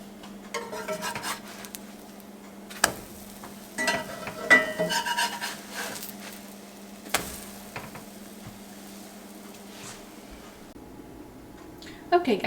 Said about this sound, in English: So I'm just going to let these cook, flip them over, pop them on the plate